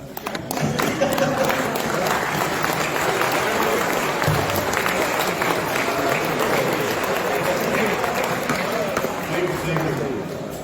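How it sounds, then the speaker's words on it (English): Sustained audience applause fills a banquet hall at an awards dinner as club participants stand, dense and steady throughout, with crowd murmur and a few voices mixed in. "please stand, please, and give it the clap"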